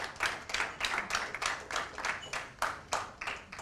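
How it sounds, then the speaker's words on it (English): Audience applause at a dance research congress event in Dadar, Mumbai, a short burst of rhythmic clapping from a crowd, moderately near, rising and falling in pulses without speech. "A big round of applause for every one of them."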